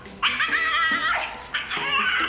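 A dog named Bruce lets out loud, high-pitched wavering screams in two long drawn-out bursts, close and shrill.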